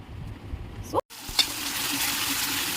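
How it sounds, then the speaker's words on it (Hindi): Masala is fried (bhuna) in a pan for chicken bhuna, a steady close sizzle broken by a brief clatter and a sudden cut, then the frying hiss resumes loud and even. "तो मसाला मैं अच्छी तरह से भून के ले रही हूँ"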